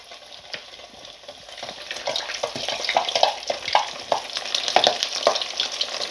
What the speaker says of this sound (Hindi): अब हम इसमें मछली फ्राई करने के लिए ऐड कर देंगे।